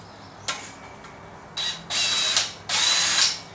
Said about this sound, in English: I've just got my little 18-volt cordless drill.